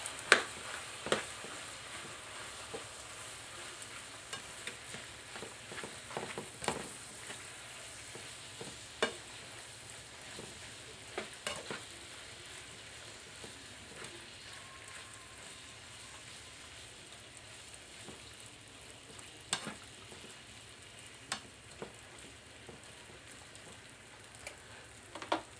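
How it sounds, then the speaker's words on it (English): Diced tomatoes from a can being stirred into a spaghetti meat sauce in a pan, a faint steady sizzle broken by scattered scraping clicks of the spoon, with no talking. "I'm going to go ahead and mix that in"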